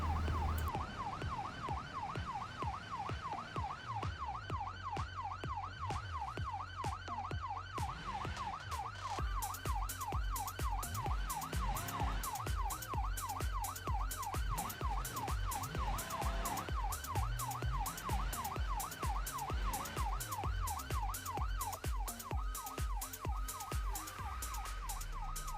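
An ambulance siren wails in BeamNG, a steady rapid wavering electronic tone with engine and road noise beneath, joined by heavier low rumbles and thumps partway through, continuous and loud throughout.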